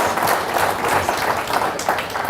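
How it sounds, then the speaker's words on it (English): A symposium audience applauds steadily, a dense wash of many hands clapping at once, loud and continuous throughout. "Please clap."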